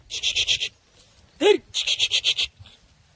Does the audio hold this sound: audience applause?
no